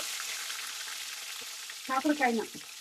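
Bitter gourd cooking in oil gives a steady close sizzle and crackle, with a short burst of voice near the end.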